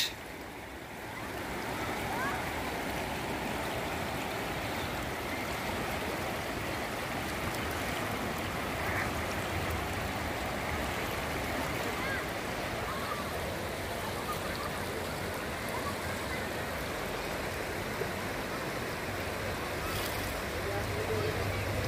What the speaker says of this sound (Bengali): নদীর কলকলো আওয়াজ।